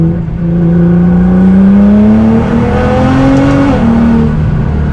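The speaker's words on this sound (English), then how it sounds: "With my exhaust, of course, I have the Valvetronic active exhaust." An A90 Toyota Supra with a Valvetronic active exhaust, set in race mode, accelerates hard, a loud, close engine note climbing steadily in pitch through the revs, with a brief shift-like dip near the end and no talking.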